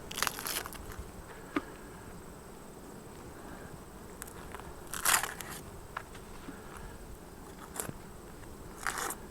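Honey bees swarming around an open hive in a beekeeping yard give a faint, continuous buzzing drone. Scattered soft clicks and crackles from handling the hive frames break through now and then.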